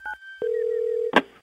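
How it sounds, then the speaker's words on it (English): A random phone dialer plays electronic telephone tones: a short double beep, then a long steady tone lasting well over half a second, ending in a brief burst of noisy clicks. "let's use our random phone dialer to make some calls."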